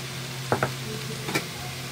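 Shrimp paste (alamang) frying in a pan, a soft steady sizzle broken by two pairs of brief scraping stirs, faint and without voices.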